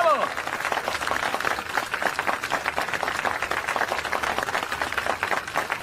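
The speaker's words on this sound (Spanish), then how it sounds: "¡Un fuerte aplauso para más ellos!" A live audience applauds a couple with sustained, dense clapping that fills the room, steady and loud throughout without a break.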